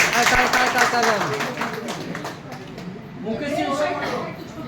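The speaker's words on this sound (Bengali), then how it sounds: "তাদের জন্য আবার জোরদার হাততালি।" A crowd claps loudly for the sir and madam at a gathering, the applause strongest at first and easing off, with a voice speaking over and after it.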